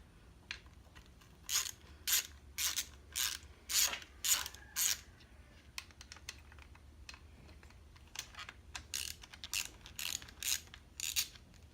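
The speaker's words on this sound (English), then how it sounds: "We'll just remove these two 8mm screws right now." Two 8mm screws being backed out of the throttle assembly on a YZ250 motorcycle, heard as bursts of quick clicking ratchet strokes in two separate runs, close up and fairly quiet, with no talking.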